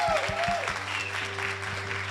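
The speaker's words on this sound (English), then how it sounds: "This is a big round of applause للفلات 6 lab team" Audience applause at a startup demo day in Amman, steady dense clapping filling the room throughout, with a voice speaking over it and faint musical tones in the background.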